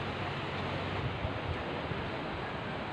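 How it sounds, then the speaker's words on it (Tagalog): River current flowing steadily at a riverside spot, a soft continuous wash of moving water with no distinct splashes, fairly quiet and even throughout, with no voices. "maririnig niyo yung ano, yung tunog ng agos ng tubig"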